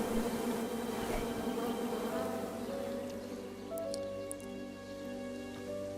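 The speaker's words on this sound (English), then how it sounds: "as you can see, there are a lot of bees here" Bees swarm around a picnic table in the King's Quest video game, a constant soft buzzing hum with steady droning tones that shift pitch slightly, quiet and continuous without talk.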